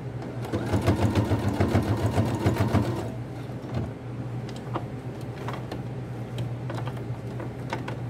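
A sewing machine stitches fabric for a triangular toiletry bag in a fast, even whirring burst for about three seconds, then falls to a lower hum with scattered clicks and taps.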